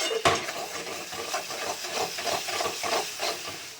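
Soybean vegetable curry fries in oil in a home kitchen, a steady close sizzle and hiss broken by repeated scraping stir strokes and one sharp utensil knock at the start.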